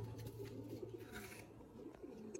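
A female pigeon in a pigeon keeper's collection coos softly in low murmuring phrases over a steady background hum, faint and close.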